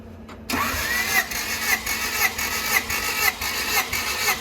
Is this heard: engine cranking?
yes